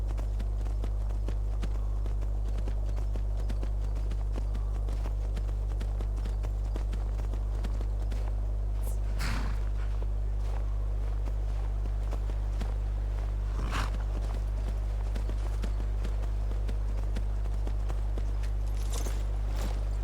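Hooves of a horse being ridden in the video game Skyrim, a soft steady clip-clop of footfalls over a constant low hum, with a couple of brief louder knocks along the way.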